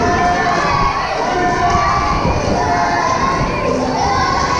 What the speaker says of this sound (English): This crowd now still behind Lumberjack Larry